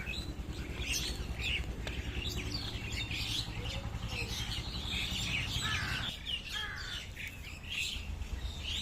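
Crows and mynas call on a rooftop while being fed soaked pieces of bread, a constant, close chorus of harsh caws, squawks and chattering chirps with no talking.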